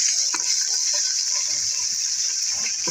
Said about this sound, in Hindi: साथ साथ लहसुन और अदरक जो हमने ग्राइंड पेस्ट बना के रखा था वो डाल रहे हैं।